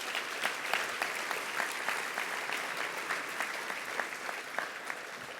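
Gala audience applauding steadily and fairly loudly throughout, a dense wash of many hands clapping with no talk over it.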